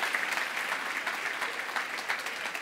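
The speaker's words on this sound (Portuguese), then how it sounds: "Então, palmas para vocês, que vocês são incríveis, incríveis." An audience at a student and family convention in Rio claps in a full, continuous burst, a dense and steady patter of many hands at close range for under three seconds.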